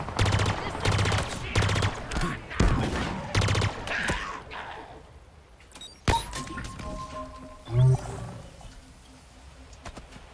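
Heavy Halo Infinite combat fire, a string of loud, rapid bursts packed into the first few seconds, then quieter game sounds with an isolated sharp crack and a later thump.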